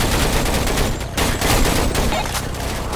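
Rapid bursts of automatic gunfire in a Roblox shooter game, loud and dense, with a brief pause midway before the firing resumes.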